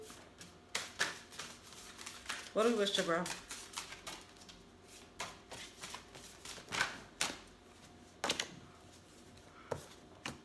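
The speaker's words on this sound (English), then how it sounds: "Look at me trying to shuffle these big ass cards." Papery riffling and snapping of large tarot cards being shuffled in short bursts, with a person speaking briefly between the shuffles.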